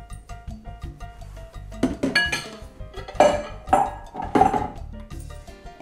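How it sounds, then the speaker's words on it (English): Cooked pasta and turkey meat are dumped into a bowl for a penne bake, giving a run of clattering clinks and scraping knocks of utensils and dishes, moderately close, with no talk. "We're gonna dump the pasta,"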